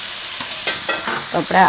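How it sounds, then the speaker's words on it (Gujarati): Tomatoes cooking in a pan with spices for a cauliflower and capsicum curry, a close, loud sizzle with a few stirring scrapes and bubbling pops toward the end. "ટમેટાને થોડી વાર પાકવા દઈશું."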